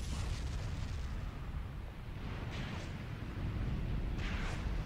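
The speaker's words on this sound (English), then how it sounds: "More artillery coming down. My artillery. That's also incendiary." Incendiary artillery shells landing around a village in the Graviteam Tactics war game: a continuous low rumbling roar of distant bombardment, with a couple of brief brighter bursts standing out toward the middle and the end.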